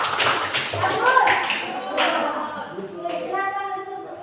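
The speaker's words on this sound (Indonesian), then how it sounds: "Sekali lagi tepuk tangan untuk kelompok satu ya." Applause for a student group in a classroom coaching session: a short burst of scattered clapping and tapping from a group, mixed with children's voices and talk.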